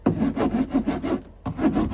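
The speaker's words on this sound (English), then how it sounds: "we can just take a fresh razor blade, and we're going to cut the speaker out" A fresh razor blade slicing the moisture barrier around a door speaker on a Ford Econoline door panel: close, rhythmic rasping strokes in quick succession, a brief pause, then more scraping cuts, with no talking.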